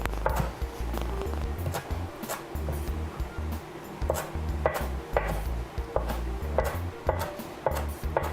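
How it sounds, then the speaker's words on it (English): Fresh herb sprigs, stems and all, chopped with a knife on a cutting board: rapid repeated close knocks of the blade in quick irregular bursts, steady and loud throughout with no talking. "You can chop the whole thing up."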